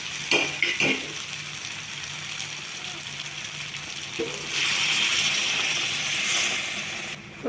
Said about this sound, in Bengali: এবার হাই ফ্লেমে একটু নাড়াচাড়া করে নিচ্ছি